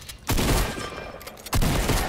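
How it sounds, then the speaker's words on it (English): Two loud, close pistol bursts in a shooter video game, one near the start and another about a second later, each cracking sharply and then trailing off, with nothing else in between. "I just harpooned him and then wasted him with the pistol."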